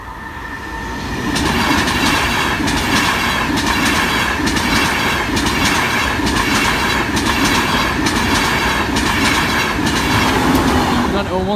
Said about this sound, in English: on the front is Flying Scotsman